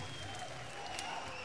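Concert crowd applauding steadily at a show in Japan, 1996, a dense continuous wash of clapping with a few scattered cheers, heard throughout without pause.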